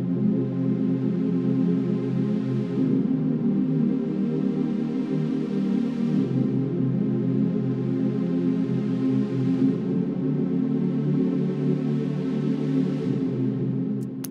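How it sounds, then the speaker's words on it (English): Wide, sustained EDM-style synth pads from Omnisphere open a track, a thick supersaw chord swelling and shifting every few seconds, steady and loud with no voice. "I had like these almost like EDM sounding pads that I thought worked pretty nice for an intro"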